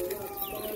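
Pet pigeon cooing in a loft in Bengal, a soft brief coo over a dense, noisy room background, close and moderately loud, with no talking.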